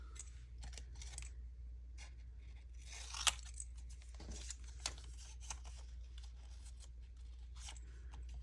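Scissors snip through paper pieces for a small junk journal notepad, a steady run of close, soft cuts with light rustling of paper over a low background hum.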